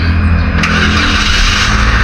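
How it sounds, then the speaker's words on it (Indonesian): A Toyota Avanza engine runs loud and steady after starting, a dense continuous rumble that holds throughout with no pause and no talk. "Kita starter dulu kawan."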